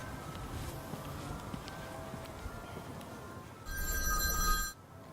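A telephone bell rings in one loud burst of about a second near the end, after a stretch of quiet room noise, with no voices.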